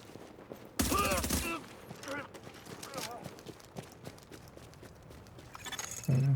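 A short, loud burst of rapid shooting from a video game firefight rings out near the start, followed by quieter game sounds and talk running underneath.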